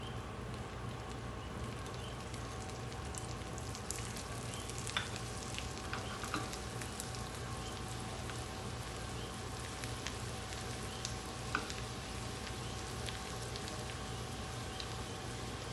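Garlic and cumin sizzle in hot oil for a tadka, a faint, steady, crackling fry with scattered small pops and occasional utensil taps, continuous throughout with no voices.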